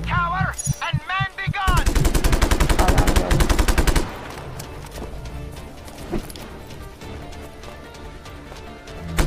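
Rapid automatic gunfire in the video game Just Cause 3 rattles loudly in a dense burst of shots lasting about two seconds, after a brief voice and before a noisier, busier game scene.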